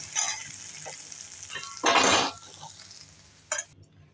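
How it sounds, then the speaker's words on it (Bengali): Whole spices (bay leaf, cinnamon, cloves, peppercorns and a dried chili) drop into hot oil for a soybean masala, giving a sudden burst of sizzling amid light clinks of utensils against the pan. "তেল গরম হয়ে গেছে, দিয়ে দিলাম একটা তেজপাতা, ডালচিনি 2 টুকরো, 4টে লবঙ্গ আর কটা গোলমরিচ"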